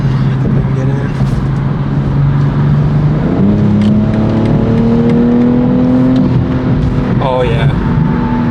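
BMW M240i accelerating from inside the cabin while merging onto a highway, a steady engine drone that climbs in pitch through the gears, with a shift partway through and road noise underneath, loud and close.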